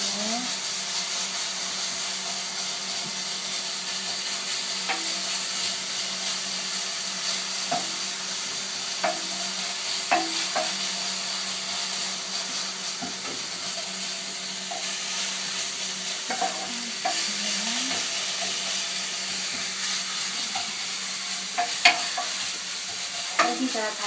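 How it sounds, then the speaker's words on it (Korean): Ground meat stir-frying for mapo tofu in a hot pan, a steady sizzle with repeated scraping strokes of a spatula breaking up lumps, close and continuous throughout with no talking. "덩어리 지지 않게 이렇게 풀어가면서 볶아주세요."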